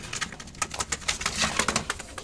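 A pigeon, a fine bird brought from Bangladesh, coos close by in a quick run of soft throaty pulses, with no talking.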